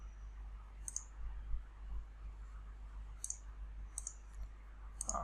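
Mouse clicks on the crypt button of file-encrypting crypter software, about five sharp, close clicks at irregular intervals over a low steady hum, with no talking.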